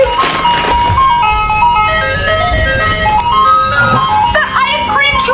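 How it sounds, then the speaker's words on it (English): An ice cream truck plays its loud, tinkling chime melody nearby while a voice and other speech break in over the tune. "The ice cream truck!"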